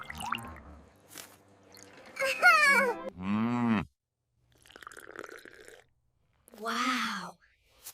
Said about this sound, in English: This cow is not for riding. This is a milk cow.